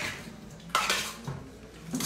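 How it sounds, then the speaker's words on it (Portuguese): A utensil scraping and clinking against an aluminium cooking pan, several sharp metallic scrapes and taps close by, with no talk over them. "você tá raspando alumínio da panela"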